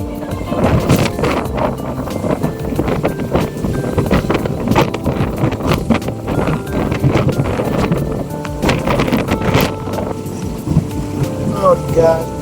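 Gusty wind buffets the microphone on the deck of the cruise ship Costa Serena at sea, with engine rumble and water noise beneath, while people talk throughout.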